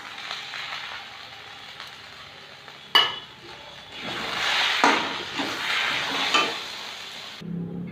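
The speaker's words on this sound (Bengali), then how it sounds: "দিয়ে এটা নেড়ে ঢাকা দিয়ে রাখবো" Pilaf in a pot stirred after sugar and ghee go in, with soft sizzling and a few sharp utensil knocks and scrapes against the metal, moderately close and without talk.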